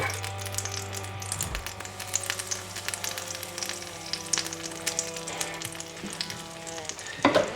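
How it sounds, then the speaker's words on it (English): Crepe batter hits a hot pan and sizzles loudly and steadily, a dense crackling fry with occasional pops, over a faint background hum and no talk. "We're gonna take 1/4 of our batter and go right to the dead center of the pan."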